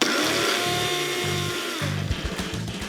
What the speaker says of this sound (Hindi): बस इंटरवल्स में ही प्रॉपर तरीके से मसालों को पीसें